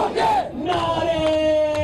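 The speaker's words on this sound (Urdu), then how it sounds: "نعرے" A crowd at a political rally in Chitral shouts a slogan in unison, a loud, brief burst of massed voices echoing over a public address system.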